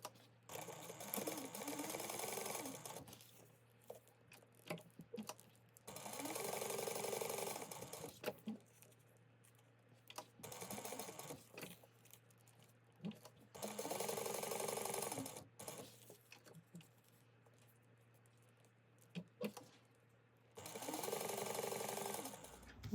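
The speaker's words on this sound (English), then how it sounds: "sew down the edges right here at 1/8 of an inch" A sewing machine stitches down fabric edges about 1/8 inch from the edge. It runs in four bursts of steady motor whir and needle chatter, each several seconds long, with short pauses between them.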